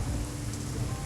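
Rain in the Craftopia video game makes a brief, even hiss of steady downpour with a low rumble underneath, close and uninterrupted.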